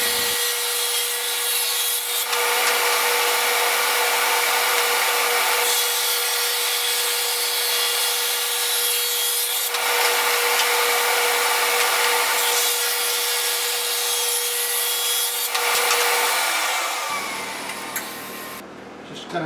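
A power saw rips thin wood stock set to about 1/8 inch for checkerboard trim, a loud continuous whine and rasp in several long passes with brief dips between cuts, ending as the blade spins down.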